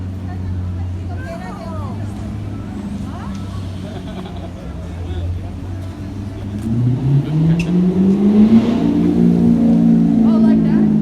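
Corvette sports car engine rising in pitch and volume as it approaches and drives by in the street, the growl building over the last few seconds beneath chatter and general crowd noise.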